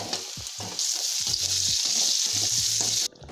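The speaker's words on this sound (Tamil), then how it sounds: "வாழைக்காயை நல்லா வறுத்து எடுத்தாச்சு" Plantain pieces frying in hot oil, a loud bright sizzle with spoon clatter and stirring knocks against the pan, ending abruptly.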